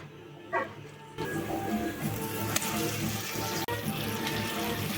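Water runs from a kitchen tap while fresh chicken is washed for a restaurant-style chicken masala curry, a steady close splashing rush with faint clinks, preceded by a short dog whimper or bark in the background.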